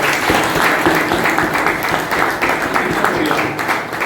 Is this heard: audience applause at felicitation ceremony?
yes